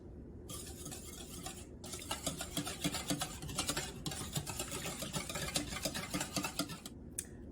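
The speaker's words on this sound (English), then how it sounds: "And I'll just mix that all together." Ingredients mixed together in a bowl for a cranberry recipe: a continuous scraping, stirring rhythm of a utensil against the bowl, close and fairly quiet, with no talking.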